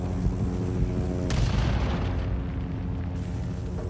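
A grenade bursts in the Vietnam War shooter Rising Storm 2, a sudden loud boom roughly a third of the way in, followed by rumbling battle noise that lingers under continuous background combat.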